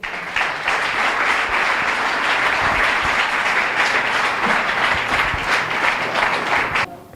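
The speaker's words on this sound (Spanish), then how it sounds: "Aplauda a Jesús por eso." A church congregation applauding Jesus during a Spanish-language sermon, steady sustained clapping from many people filling the room, fairly loud and unbroken until cutting off near the end.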